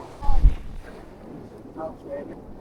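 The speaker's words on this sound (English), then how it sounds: "it's a bit windy, folks, so I don't know what you can pick up. It's howling a bit" Seaside wind at Bridlington buffets the microphone in low rumbling gusts, strongest at the start, then settles into a steady blustery roar.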